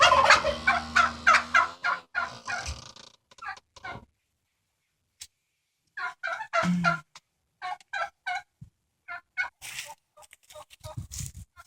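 Poultry in a backyard chicken coop with a covered run call out loudly in a fast, rattling burst, then after a short quiet spell give several shorter bouts of repeated clucking and squawking, close by.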